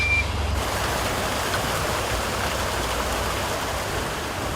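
A truck's reversing alarm beeps at a flatfish (halibut) fish farm, loud and close, over steady rain-like rushing of water throughout, with no talk.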